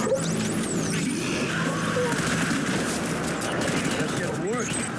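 Machine gun fire rattles in a dense, continuous burst in the video game Death Stranding, mixed with battlefield rumble, whooshes and engine-like noise, with voices calling out amid the chaos.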